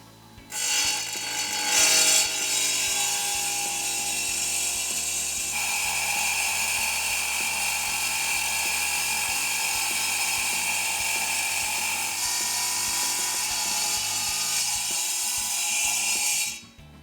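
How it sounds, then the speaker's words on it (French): A SIDAMO PRECICUT 250 table saw runs loud and steady while cutting a paving slab, its blade whining and grinding for about fifteen seconds before spinning down. "Donc là, pour la découpe, on va partir sur de la dalle sur plot. C'est parti, on découpe."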